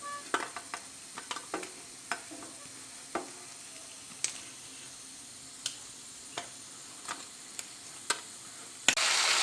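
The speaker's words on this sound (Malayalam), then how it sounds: "നത്തോലി നല്ല കറുമുറ വറുത്ത് വന്നിട്ടുണ്ട്" Anchovies fry crisp in oil under a soft, steady sizzle, with sharp clicks and taps from stirring and lifting scattered throughout.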